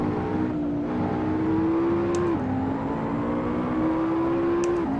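Engine note of a McLaren MP4-12C in the racing game Assetto Corsa, a steady, loud drone that climbs in pitch through the gears with two sharp drops at upshifts, running continuously under faint track noise.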